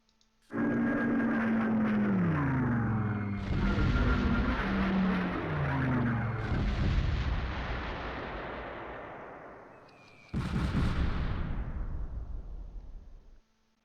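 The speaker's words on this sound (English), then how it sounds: "I went ahead and allocated an airstrike for them" A World War II airstrike in the Close Combat strategy game: loud aircraft engine roars and booming, rumbling explosions that swell and fade, then a sudden fresh blast near the end, with no voices.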